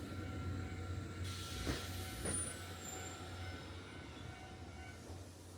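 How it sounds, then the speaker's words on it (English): A distant train on Japan's Kada Line rumbles into a station at low level, with a couple of soft clanks and a faint high brake squeal over a steady mechanical hum. "we filmed the blue train coming in to join the awaiting green"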